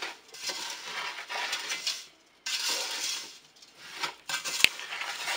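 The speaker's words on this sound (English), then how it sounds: "Just keep stirring it." A spoon stirs blueberry jam in a pot with soft, continuous scraping in two long passes, then shorter strokes and one sharp clink near the end.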